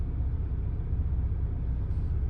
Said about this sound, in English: And here comes a car.